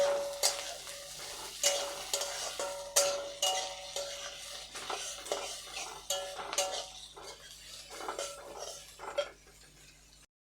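Carrots fry in a pan for puffed rice pulao while a utensil stirs them in repeated scraping strokes with light clinks, quiet and close, the gentle sizzle fading toward the end.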